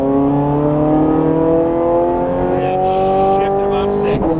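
A Ferrari 430 Scuderia's engine climbs in pitch under throttle on a race track, loud and close from inside the car, with a voice talking over it.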